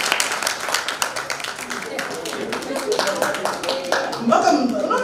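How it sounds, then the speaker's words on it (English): An audience at a monthly ageing discussion forum claps in a steady patter of many hands, with people talking and chuckling over it. "Let's give her a big clap."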